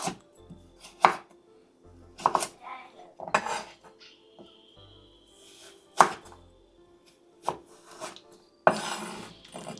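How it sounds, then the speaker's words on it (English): A knife cuts a carrot into strips on a board, with sharp, loud chops spaced about a second apart and softer scraping and rubbing between strokes. "So the carrot now, just going to cut those into nice strips."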